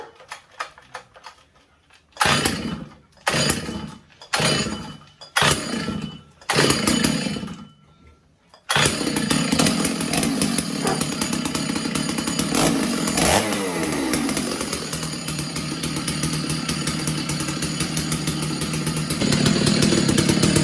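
Cold start of a STIHL 066 chainsaw: several rapid pull-start bursts that sputter and die, then the engine catches and runs as a loud, steady, close-up roar with a brief rev change.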